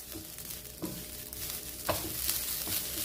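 Ground coconut fries in a pan over a medium-low flame while being stirred, giving a continuous soft sizzle broken by a few louder scraping strokes, close up and without talk.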